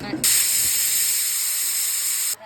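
A pressure cooker on a gas flame releases steam in a loud, sustained close hiss that starts abruptly, holds steady for about two seconds, then cuts off; no talking.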